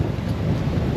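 Steady roar of strong wind gusting around 21 knots on a sailboat, buffeting the microphone, a low rumbling rush that barely lets up.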